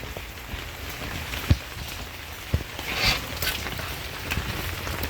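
Rainwater from a storm runs through a downspout drain system, a steady soft wash of flowing water with a few faint knocks and splashes over a constant background.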